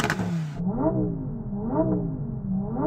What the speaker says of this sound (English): rev at the Lamborghini